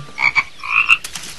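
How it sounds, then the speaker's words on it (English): A frog in the water croaks in a few short, close calls, followed by a longer drawn-out croak. "We can listen to the sound of a frog in the water."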